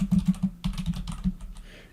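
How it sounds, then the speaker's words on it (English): Typing on a computer keyboard while writing a blog post page title, a quick run of close key clacks in uneven bursts that thins out and stops, with no talk. "But I could also just type anything I wanted"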